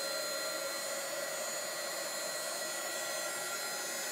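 A hair dryer blows steadily and close by with a broad, even whoosh and a faint whine, drying chalk paint on a craft project; no one talks.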